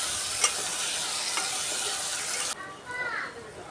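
Tomatoes and onions fry in a pan while being stirred, making a steady bright sizzle with a couple of soft scrapes that drops off abruptly partway through, leaving a quieter tail.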